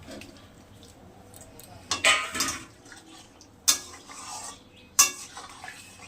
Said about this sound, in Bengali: এবার চাল কুমড়োগুলো দিয়ে দিলাম